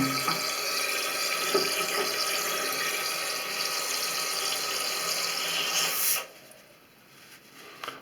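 A toilet cistern refills after a flush following a repaired flush-valve membrane seal, a steady loud hiss and rush of water that cuts off sharply near the end, leaving a quieter trickle.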